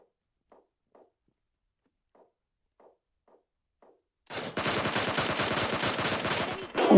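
Automatic gunfire in PUBG Mobile Lite, opening with a few faint isolated footstep-like taps, then a loud sustained burst of rapid shots for about two and a half seconds.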